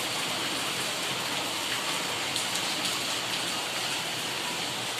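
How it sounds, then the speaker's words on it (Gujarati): Heavy rain pours down in a dense, steady hiss, constant and close, with no voices. "જો વરસાદ વધ્યો"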